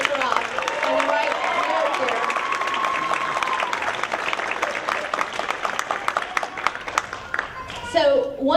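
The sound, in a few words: audience applause for a pageant candidate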